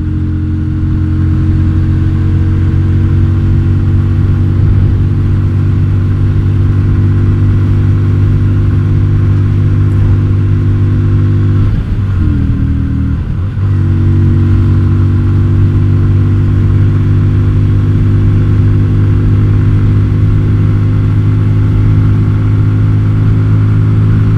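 A Yamaha Virago XV250 motorcycle fitted with a 40-tooth rear sprocket drones loudly and steadily while riding, its engine note holding a constant pitch, with a brief dip and wobble around the middle before settling back to the same even hum.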